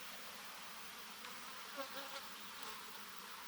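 Honey bees crawl over a brood frame pulled from a hive, their massed buzzing a continuous, fairly quiet hum with a few individual insects briefly rising louder as they pass close.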